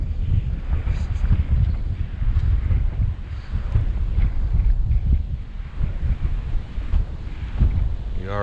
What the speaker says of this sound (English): We are in a wind advisory.